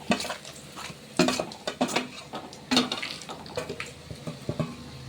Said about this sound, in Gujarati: તો આપણે ગેસ ધીમો રાખીશું અને ધીમે ધીમે હલાવશું.